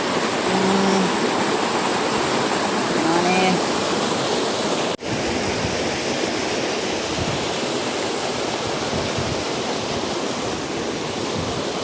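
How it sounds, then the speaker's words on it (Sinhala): Strong water pours over an open anicut spillway in a steady, loud broadband roar that fills the whole stretch, with a few faint tonal chirps early on and a brief dropout near the middle. "අද නම් වාන් ඇරලා තියෙන්නේ"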